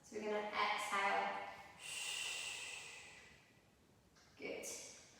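During a postnatal core workout, a strong, breathy exhale rushes out, close and audible, followed by a softer lingering breath and another short forceful puff near the end.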